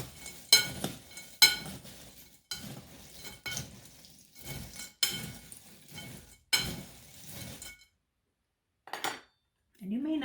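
Chex Mix being tossed with butter in a bowl, a series of loud rattling, clinking bursts of utensil against dish in an uneven rhythm, each churn separated by short pauses, then a brief quiet stretch near the end.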